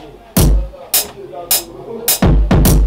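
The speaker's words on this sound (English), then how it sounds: "Yeah, the kick. You know, the kick sound like this." Punchy kick drum samples in a beat under production hit one after another in an irregular pattern, each a loud deep thump with a sharp attack, ending in a quick pair of hits.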